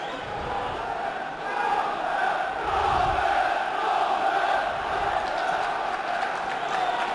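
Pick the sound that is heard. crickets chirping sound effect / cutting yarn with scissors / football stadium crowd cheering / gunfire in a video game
football stadium crowd cheering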